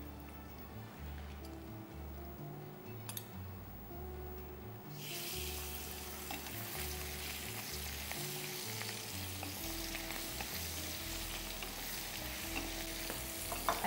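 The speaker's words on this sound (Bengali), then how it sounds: "এই মাছটা যে ভাজা হচ্ছে এটা কিরকম ভাজা হবে?" Fish sizzles while frying crisp in hot oil, a steady crackling hiss that grows after a few seconds and continues throughout. Quiet background music plays underneath.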